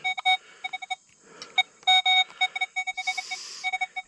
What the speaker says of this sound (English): Every time I touch that foam, that machine's going off.